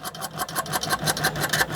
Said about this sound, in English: I'm just going to simply make a big old basting stitch